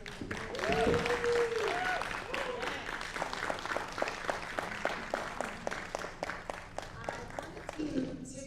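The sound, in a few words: applause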